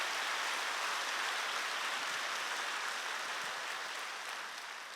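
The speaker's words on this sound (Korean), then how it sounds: "진짜 명문 박수 좀 세게 쳐요." Congregation in a church applauding together, a dense sustained wash of clapping from many hands that fills the space steadily and tapers slightly toward the end, with no talk over it.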